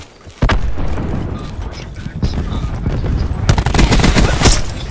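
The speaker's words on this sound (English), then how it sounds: "Cluster grenade." Cluster grenade going off in a first-person shooter video game, setting off a rapid run of loud, close, overlapping blasts and crackling bursts that fill the whole stretch, with a faint voice underneath.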